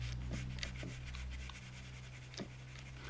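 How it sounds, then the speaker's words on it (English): A pencil sketching a quick dog drawing on fine drawing paper makes soft scratchy strokes, a few distinct scrapes and light rubbing, faint and close, over a low background hum. "This paper is delightful to draw on."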